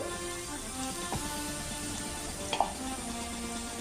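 Okra and potato frying in a pan for a vegetarian curry, giving a steady close sizzle with a few faint clicks of stirring.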